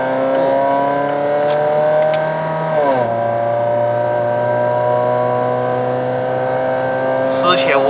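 A 2010 Mazda 3 BL Sport 2.0L engine drones steadily under load while driving, its pitch climbing, dropping sharply at a gear change, then holding steady, loud and close from inside the cabin.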